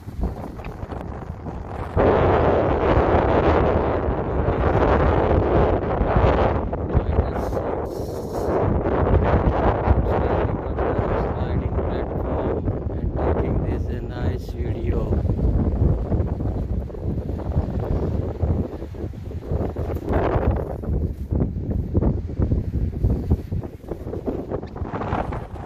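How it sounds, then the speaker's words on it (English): Strong wind of about 37 km/h, gusting to 67 km/h, roars and buffets the microphone continuously in a park, a loud steady rushing with gusty surges throughout. "Heavy wind. Some 37 kilometers per an hour."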